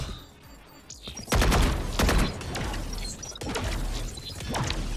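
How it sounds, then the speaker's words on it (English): KAYO's flashbang ability going off in Valorant, a couple of loud sharp bursts around the second and two-second marks over steady game noise and gunfire-like crackle, with further hits later. "Flashbang."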